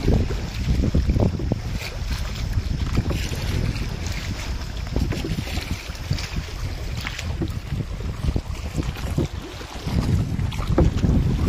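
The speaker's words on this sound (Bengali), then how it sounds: "প্রচুর হাওয়া হচ্ছে আজকে।" Strong stormy wind by a river buffets the microphone in a continuous loud, rumbling roar with gusts swelling at the start and end, no voices.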